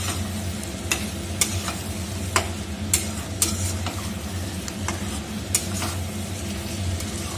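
Chicken with chicken masala stirred in a frying pan for chicken kosha, a constant sizzle broken by sharp, irregular scrapes and knocks of the spoon against the pan, close and clear, no voices.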